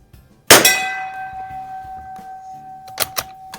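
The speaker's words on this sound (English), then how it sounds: "That rang the bell." A shot from a .22lr target rifle or .177 pellet gun strikes a steel bell target with a single sharp clang that rings and fades over a few seconds. Faint clicks and handling noises follow.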